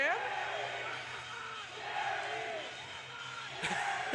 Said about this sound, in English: The crowd getting into it. Everybody getting hyped